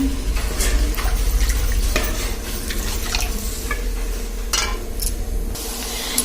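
Milk being stirred in a pot for sabudana kheer: a spoon scrapes and clinks against metal in irregular strokes close up, over a low steady background hum.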